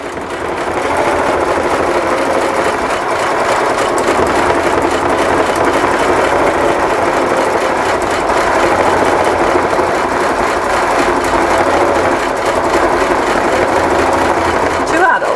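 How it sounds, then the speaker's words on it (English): An embroidery machine stitching on a Sunday afternoon, a steady, loud mechanical whir and rapid needle chatter running continuously throughout, with faint voices under it. "On Sunday afternoon watching an embroidery machine."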